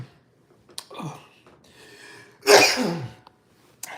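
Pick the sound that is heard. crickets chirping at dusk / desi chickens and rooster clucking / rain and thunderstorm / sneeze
sneeze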